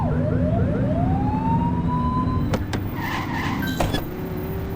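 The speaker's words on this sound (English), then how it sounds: "Get behind them and blip the siren and make them pull over." Police car siren blipping in The Precinct video game, short rising electronic whoops over a steady engine and road rumble, followed by a couple of sharp bursts near the end.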